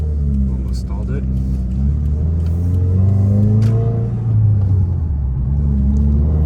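Car engine fitted with a GrimmSpeed intake revving up and down, a loud deep rumble with rising and falling induction whoosh, close by, with people talking over it.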